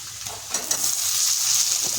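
Onions and tomato frying in a pan for a Bengali fish curry with aubergine and potato, a steady close hiss of sizzling oil with a few soft stirring scrapes, no voices.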